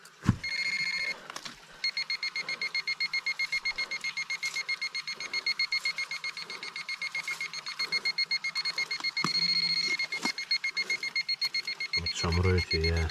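A metal detector beeps in a rapid, steady pulsing pattern through most of a nighttime treasure hunt, with a few pauses, while people talk nearby and handle the ground.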